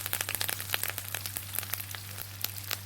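Curry leaves and shallots frying in hot oil for a village-style dried anchovy thokku, a dense crackling sizzle with rapid irregular pops and spits throughout.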